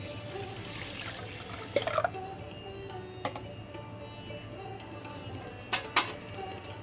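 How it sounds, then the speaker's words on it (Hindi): Two cups of water run and splash into a metal pot holding sugar for syrup, with a few sharp clinks and knocks of cookware along the way. "2 कप पानी डालेंगे"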